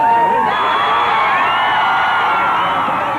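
At the 1989 Batman premiere, a large crowd cheers loudly and steadily, with high shrieks and whoops riding over a dense roar.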